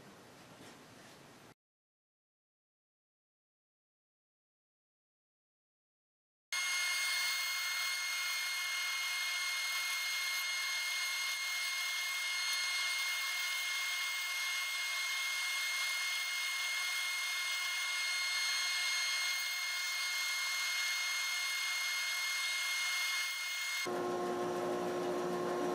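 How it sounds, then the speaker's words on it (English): A bandsaw cuts wooden discs out of scrap blanks, a steady loud whine with a strong tonal hum running for most of the span, preceded by a short burst of noise and a silent gap, with no talking. "now I'll take these to the bandsaw and start cutting them out"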